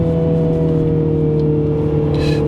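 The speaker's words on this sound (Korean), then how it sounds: "이건 이제 엔진 회전 올라가는 겁니다." A Mini JCW Clubman engine revs steadily from inside the car, a loud sustained drone with a strong engine tone holding level throughout, no voices over it.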